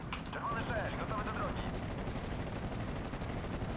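Off-map artillery barrage in Steel Division: Normandy 44 on Omaha, a steady rumble of distant shelling and machine-gun chatter, faint and continuous beneath the battle ambience.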